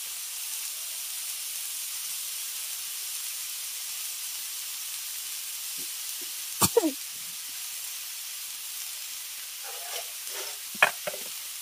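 Banana flower and mashed boiled potato sautéed with spices in a pan: a faint, steady sizzling hiss throughout, broken by a few brief scrapes and knocks of a spatula, close and quiet.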